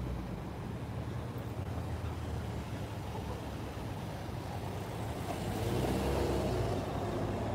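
Faint, distant car engines idle and rumble at the Tatsumi Parking Area in Japan at midnight, with a low steady drone that grows a little louder near the end as a vehicle moves closer.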